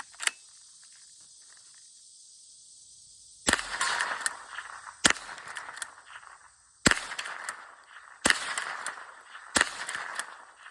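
Henry Golden Boy .22 lever-action rifle firing cheap .22 ammunition at targets outdoors: five sharp, separate shots, each followed by a short decaying echo, after a few seconds of near-silence broken by faint insect chirping.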